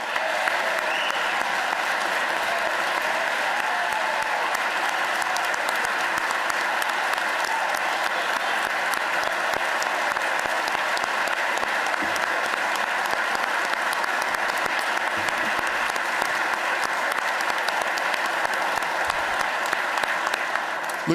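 A large audience at a state budget address applauds first responders, with sustained, dense clapping that holds steady and loud for about twenty seconds and has no pauses.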